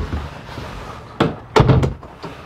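A solid RV bedroom door with opaque glass, in a 2015 Keystone Cougar High Country 280RLS travel trailer, is moved, giving a single knock followed by a cluster of close, sharp thunks and a faint final tap.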